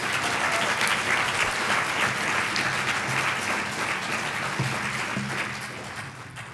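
Sustained audience applause for Congressman Elijah Cummings at a movie screening, a dense, even roar of many hands clapping throughout, full and close without any speech over it.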